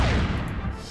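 A ship's cannon broadside striking in the Monkey Island 3 video game: one loud, close booming crash with a rumbling tail that quickly fades.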